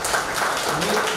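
Applause from a school batch reunion gathering, a short burst of dense, continuous clapping from a crowd, steady and moderately loud.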